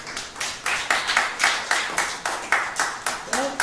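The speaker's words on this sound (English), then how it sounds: "So a round of applause for Steve Bloom" An audience applauds poet Steve Bloom at a fundraiser and art show, with steady, evenly paced rhythmic clapping that sounds like a small crowd, moderately loud and continuous.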